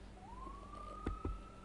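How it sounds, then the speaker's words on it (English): A police-type emergency siren rises and holds in the distance on a city street at night during a building fire, with a couple of dull thuds nearby. "Now we're starting to hear some sirens."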